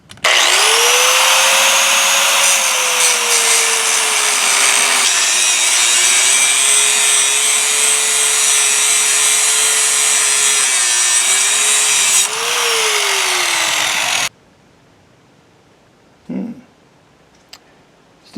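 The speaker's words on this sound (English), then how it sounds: "we're going to go ahead and cut it off with the angle grinder" Angle grinder cutting off a part of a Craftsman EZ3 lawnmower engine, a loud, steady high whine with bright rasping overtones lasting about fourteen seconds, then stopping, followed by a short clank in near silence.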